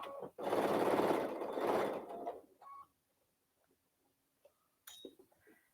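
A sewing machine stitches through a quilted case in a loud, steady whirring run of about two seconds, then stops, followed by a few faint clicks and light handling sounds without any talking.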